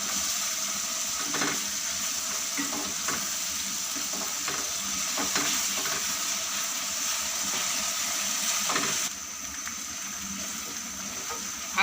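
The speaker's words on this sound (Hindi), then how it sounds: "1 टेबलस्पून अदरक लहसुन और 2 से 3 हरी मिर्चें लेकर पेस्ट बना ली और इसको फ्राई करेंगे हम 2 से 3 मिनट तक।" A paste of ginger, garlic and green chilies sizzles and fries in hot oil in a pan, a steady crackling hiss with occasional stirring clatter, close up and without talk; the sizzle drops slightly near the end.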